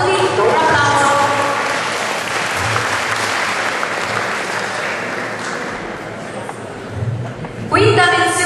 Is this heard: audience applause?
yes